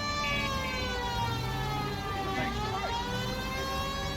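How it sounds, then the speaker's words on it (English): A police car siren wails loud and steady in the game L.A. Noire, its rising and falling tone sounding over a rumbling car engine. "Put that siren on and let's get going."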